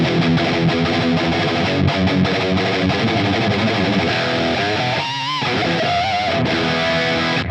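A Line 6 POD Express modeler playing an electric guitar lead tone with heavy distortion, a loud, sustained, saturated line of notes with a brief dip before continuing.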